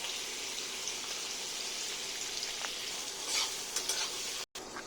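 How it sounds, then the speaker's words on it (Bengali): Paneer cubes frying in oil in a pan, a steady soft sizzle with occasional light stirring, close and alone with no talk. "পনির আমার ভাজা হয়ে গেছে, লাল লাল করে ভাজা হয়ে গেছে"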